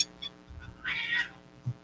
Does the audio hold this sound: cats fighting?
yes